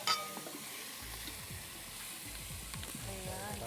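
Pieces of pork belly (liempo) fry in a pan with a steady, fairly faint sizzle, and stirring or scraping sounds run through it; no voices are present.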